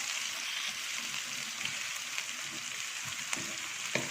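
Chopped tomatoes fry in oil in a pot for chicken haleem, a close, steady sizzle with soft bubbling and a few light stirring clicks, no voices.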